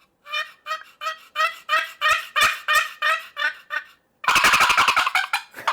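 A hunter's turkey call imitates a wild turkey gobble: a run of about ten rapid, loud, rhythmic gobbling notes, a brief pause, then a harsher, denser burst of rattling notes, all close up with no talking.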